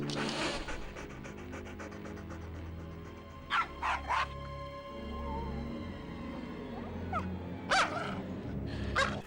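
A family dog in the PS1 video game Army Men: Sarge's Heroes gives a few sharp, loud barks in short clusters over a low game music bed, with a quieter whimpering yip between them.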